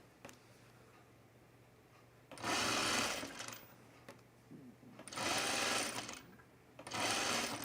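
Sewing machine stitching the yoke seam of a 1930s-style blouse in three loud whirring bursts separated by quiet pauses, with some brief handling sounds between runs.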